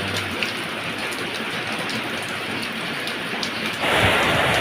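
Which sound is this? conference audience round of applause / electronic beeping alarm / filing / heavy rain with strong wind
heavy rain with strong wind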